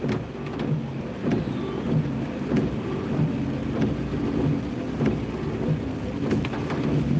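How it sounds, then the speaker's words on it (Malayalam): Heavy rain falls hard along a main road, a dense continuous roar of drops with scattered sharper splashes and a low rumbling undertone, no voices present. "നല്ല മഴ ശക്തിയായിട്ട് പെയ്തുകൊണ്ടിരിക്കുകയാണ്"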